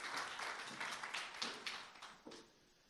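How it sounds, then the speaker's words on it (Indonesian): Church congregation applauding worship leaders and musicians, a faint, dense patter of many hands clapping from a distance that gradually thins and fades out, with no voices. "Boleh di-extend tepuk tangannya buat worship leaders dan para musicians"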